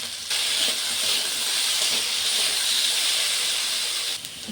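Potatoes fry in hot mustard oil with bay leaf, five-spice and green chilli, producing a loud, steady hiss that starts abruptly, holds evenly for about four seconds, then drops off near the end.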